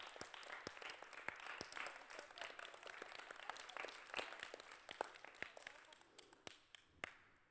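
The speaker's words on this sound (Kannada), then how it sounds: "ನೀವೆಲ್ಲರೂ ಕ್ಲ್ಯಾಪ್ ಮಾಡಿ ಅವ್ರಿಗಾಗಿ" A room of children at a vacation Bible school claps for a group of young performers, bursts of close, sharp hand claps that thin out and pick up again, with a few voices murmuring underneath.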